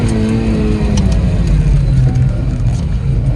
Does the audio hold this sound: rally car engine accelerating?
yes